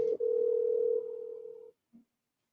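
A single steady ringback tone hums through a phone line for under two seconds as an outgoing call is placed, then stops and a brief faint beep follows.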